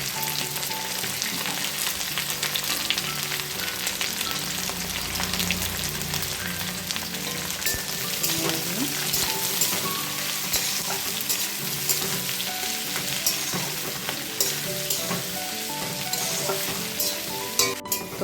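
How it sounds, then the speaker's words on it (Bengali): Onions hit a pan of hot oil with cumin seeds already fried in it. A dense, even sizzle holds close and steady, with occasional light clinks of stirring. "এবার দেবো পেঁয়াজগুলো দিয়ে দেবো"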